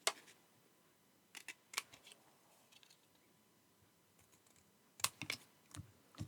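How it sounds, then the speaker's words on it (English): Scissors snipping around a folded paper piece, a handful of quick sharp cuts in small clusters with quiet pauses between them, close and crisp, with no talking. "And snip all the way round."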